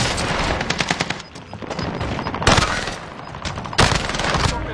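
Bursts of rapid gunfire in the video game Call of Duty: Warzone rattle loudly, with two sharp, heavier volleys cutting through the steady shooting.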